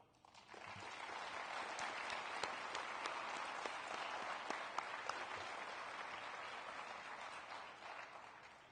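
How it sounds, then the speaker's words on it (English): An audience at the NIADA 2019 National Leadership Awards Banquet breaks into sustained applause, a dense steady roar of many hands clapping that rises quickly and holds evenly throughout. "join me in an appreciative round of applause for these great men and women"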